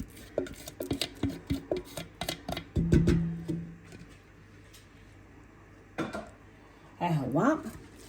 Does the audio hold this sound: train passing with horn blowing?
no